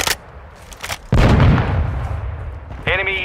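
Gunfire and heavy impacts in Call of Duty: Modern Warfare II, hardcore mode: a loud burst of shots and blasts rolls on for about two seconds after scattered earlier pops, with a tonal game cue rising at the end.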